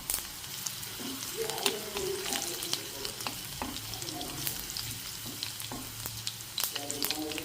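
Cumin seeds and crushed garlic crackle in hot oil for a tempering, making a continuous close sizzle peppered with sharp pops and spits, with a faint hint of voice beneath.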